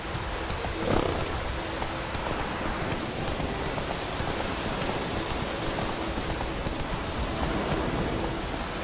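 Steady rainfall in The Witcher 3: Wild Hunt video game hisses evenly throughout, a dense wash of falling drops on a boat with a faint thud near the start.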